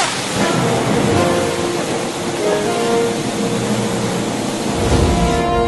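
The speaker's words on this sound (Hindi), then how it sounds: "बाहर बहुत तेज बारिश हो रही है" Heavy rain pours outside in a village, a loud, dense and continuous wash of noise with faint low rumbling underneath.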